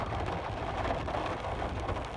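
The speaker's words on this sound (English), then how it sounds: "All this rain is washing the road out here too." Heavy rain pours steadily over a flooded pasture and road, a dense, loud, unbroken hiss of drops hitting water and ground, with no voices.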